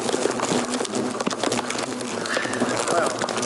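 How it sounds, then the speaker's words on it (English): A disturbed Asian hornet nest, yellow-legged hornets swarming, gives a dense, continuous insect buzzing close by, steady throughout with occasional louder passes, while a voice talks faintly in the background. "you can hear what it's like if an Asian hornet nest is disturbed"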